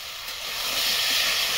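Boiled jackfruit drops into spice paste frying in a pan, setting off a loud, rising sizzle that swells into a steady bright hiss with no voices.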